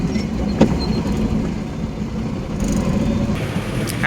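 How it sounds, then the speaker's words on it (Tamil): Dense road traffic rumbles steadily nearby, with car engines and passing vehicles forming a continuous low roar and a brief louder moment early on, heard from a small Mahindra Jeeto CNG cargo vehicle out on a delivery run. "டிராஃபிக்குங்க, சரியான டிராஃபிக்."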